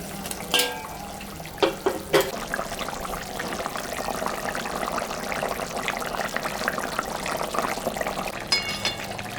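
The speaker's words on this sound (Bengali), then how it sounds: "ঝোল ফুটে গেছে, এখন আমি মাছটা দিয়ে দেবো।" Curry broth boiling with prawns and elephant foot yam in a pot, giving a steady bubbling hiss with a few sharp clinks and splashes near the start and again near the end, and no voices.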